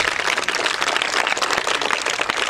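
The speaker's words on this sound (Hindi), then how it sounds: "जोरदार तालियां" Audience applause for a student answering a maths question in a classroom education program in India, a dense, steady wash of clapping filling the whole clip without pause.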